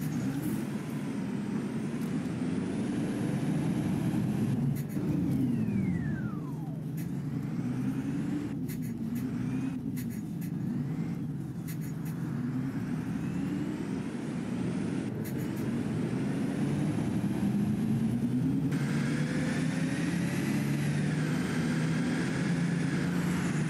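Simulated Mercedes-Benz O530 Citaro city bus engine in the OMSI 2 driving game, a loud, steady, bass-heavy thrashing drone that rises and falls with throttle, with occasional brief higher whines and hisses over the continuous rumble.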